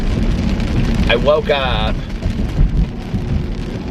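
Heavy rain pours over Indianapolis at night, a dense, loud, constant wash with low thunder-like rumble beneath, while a voice speaks briefly over it.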